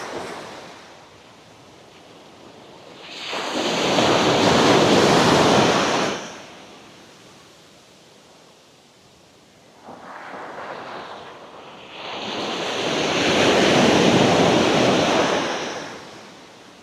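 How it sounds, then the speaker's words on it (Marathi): Ocean waves breaking on the shore near Vengurla, two big crashing surges that swell and roar for a few seconds each, with a smaller wash between them and light wind noise throughout. "आतापर्यंत शांत होता समुद्र, पण आता लाटा थोडा वाढले"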